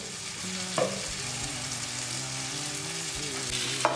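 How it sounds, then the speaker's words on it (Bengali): Steady close sizzle of potatoes frying in mustard oil in a hot kadai, with occasional sharp metallic taps from a spatula and no voices. "কড়াইটা গরম হয়ে গেছে, এর মধ্যে আমি সর্ষের তেল দিচ্ছি,"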